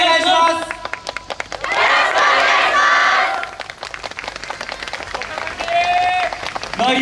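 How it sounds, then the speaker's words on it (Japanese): An audience at a yosakoi dance stage performance in Yoyogi Park during the Harajuku Omotesando Genki festival claps along in rhythm, loud and close, with cheering, shouted calls and a bright voice rising over the clapping. "お手拍子、お心拍子のほどどうぞ よろしくお願いします。"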